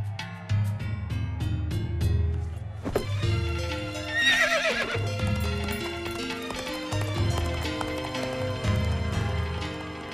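An animated horse whinnies and its hooves clop in a quick run, layered over a busy orchestral score with swelling strings and brass, loud and close throughout.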